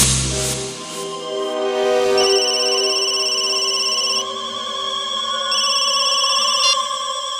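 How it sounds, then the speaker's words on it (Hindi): An incoming call on a mobile phone rings out as a bright, melodic electronic ringtone: steady repeating tones with a few pitch changes, clear and close, with no one talking over it. "उसके मोबाइल पर एक कॉल आया था"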